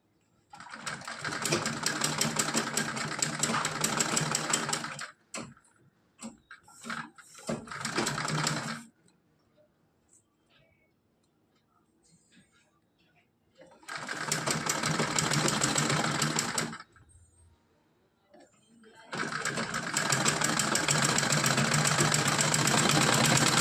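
An electric sewing machine stitches a small festival dress for a Kanha idol, running in three long, steady whirring bursts separated by quiet pauses and a few short starts.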